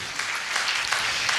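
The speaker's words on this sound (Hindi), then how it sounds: "जोरदार ताली हो जाए उनके लिए" Audience applause for a soldier being welcomed at a Safeshop business gathering, a steady, dense wash of clapping holding at even loudness throughout without talk.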